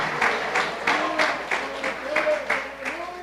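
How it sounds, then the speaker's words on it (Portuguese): A church congregation claps in rhythmic bursts at a steady beat, the crowd's applause close and moderately loud, with voices underneath. "Você pode aplaudir ao Senhor com o seu melhor."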